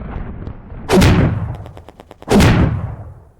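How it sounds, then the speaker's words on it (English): Two loud, close booming launches of a missile barrage from a Titan mech in Titanfall, separated by a rapid series of short clicking pulses, with no speech. "Firing missile barrage."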